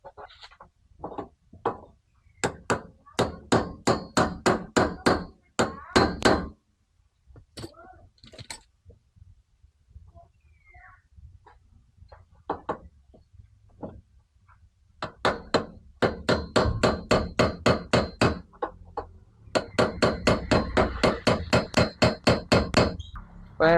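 Rapid bursts of close metal hammering on a stuck wiper cover of a TVS King tuk-tuk, in fast runs of strikes separated by quieter pauses with a few scattered single taps.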